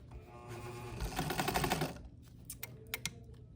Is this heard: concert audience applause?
no